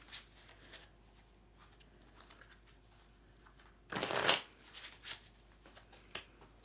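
Tarot cards being shuffled by hand: soft papery riffles and taps, with one louder, dense flurry of shuffling in the middle, close and quiet with no talking.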